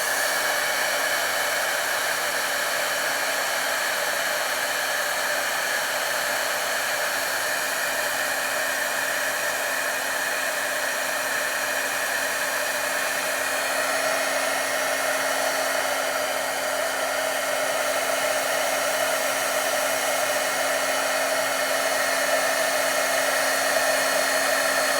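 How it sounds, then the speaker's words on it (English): Heat gun blowing hot air to set mica powder embossing on paper, a loud, constant airy roar with a steady hum that holds unchanged from start to finish with no voices. "I'm going to use my heat gun"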